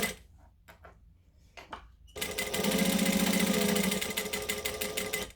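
A few soft clicks and handling sounds, then a sewing machine stitching through waterproof canvas in one steady whirring run of about three seconds. The run ends with a brief backstitch.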